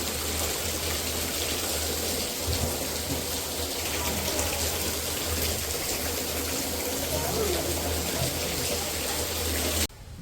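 Heavy monsoon rain falling at a cow shelter, a dense steady patter and hiss of drops on surfaces that runs loud and unbroken for about ten seconds before cutting off at the end.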